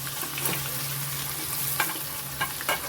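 Pieces of green moong dhokla dropped into a frying pan and gently stirred, with a brief steady sizzle broken by a few soft spatula clinks.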